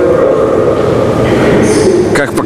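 A subway metro train runs loudly and close by, a steady dense rumble and roar with brief high squeals and clatter near the end, heard from on board or at the platform.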